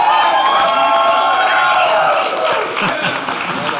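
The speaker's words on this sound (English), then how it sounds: "Have a round of applause." Audience applause welcoming the band, with loud clapping, cheering and whoops from a close crowd, plus a tonal hum or ringing underneath that slowly fades.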